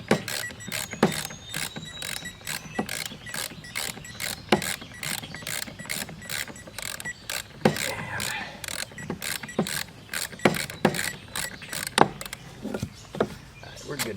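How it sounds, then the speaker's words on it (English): A wrench clicks and ratchets in a quick, irregular series of sharp ticks while loosening the bolt that holds a Greenworks lawn mower blade, close by, with faint background noise. "Just gonna get that bolt off."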